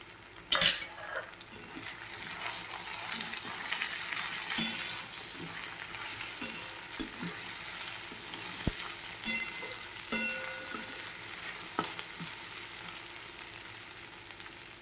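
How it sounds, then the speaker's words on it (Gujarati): Sliced okra frying in oil in a pan over a low gas flame, with a steady soft sizzle and scattered clinks and scrapes of a spoon stirring against the metal, no talking. "અને તેના પછી આપણે જે ભીંડા સમાર્યા હતા આ રીતના તે પણ આપણે તેમાં નાખી દેવાના છે ગેસની ફ્લેમ ધીમી રાખવાની છે"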